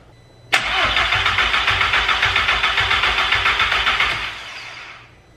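A Volkswagen Corrado with a swapped-in 1.8T engine fires up on its first start with a sharp catch, then settles into a loud, slightly uneven idle with a rhythmic pulse before fading down.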